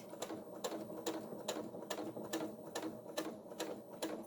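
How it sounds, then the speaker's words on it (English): A sewing machine slowly stitches across a zipper tab while making a sling bag, giving faint, evenly spaced mechanical thumps about two per second, alone and close. "At about 1/4 inch, I'm going to sew across."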